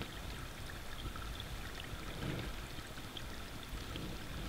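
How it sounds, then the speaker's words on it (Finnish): Water trickles faintly beneath winter ice in a remote wilderness, a soft continuous gurgle that blends into a steady wash of background noise. "ihan pienen lorina kuuluu kyllä"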